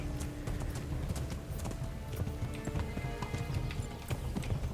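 Horse hooves gallop in steady clip-clop rhythm in the video game Kingdom Come: Deliverance, loud and close, with occasional whinnies over busy game sound.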